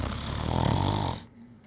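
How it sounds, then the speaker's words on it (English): A person snores loudly and close up, one long rasping inhaled snore that cuts off abruptly into quiet. "You were snoring!"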